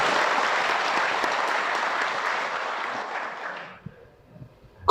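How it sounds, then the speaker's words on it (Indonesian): An audience at an Islamic religious lecture bursts into dense, even applause that holds steady for several seconds and then abruptly stops, leaving a quiet room with a few faint knocks. "Kenapa jadi tepuk tangan begitu?"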